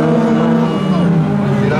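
An Audi Quattro race car on the final lap of a class 5 final at the Birkenring in Hoope, its engine a steady, loud drone with shifting pitch, heard under an announcer's voice.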